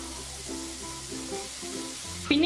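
Vegetables sizzle steadily in a hot pan as soy sauce is poured in, the frying hiss rising sharply with a fresh burst near the end.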